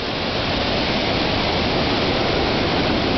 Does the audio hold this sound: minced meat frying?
no